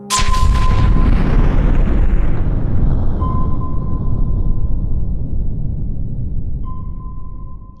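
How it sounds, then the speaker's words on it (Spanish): Explosion in a ship's engine room, an audiobook sound effect: one sudden heavy blast at the start that decays into a long, deep rumbling roar, with faint sonar-like tones ringing over it. "La explosión en la sala de máquinas a las 2 de la tarde nos tomó completamente desprevenidos."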